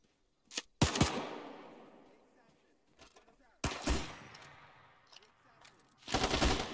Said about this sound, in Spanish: Tengo una buena ametralladora